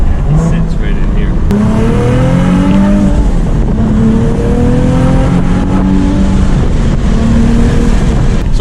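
A twin-turbo Nissan 370Z Nismo revs and pulls through the gears on the road, its loud engine note climbing in repeated sweeps while people talk over it inside the cabin.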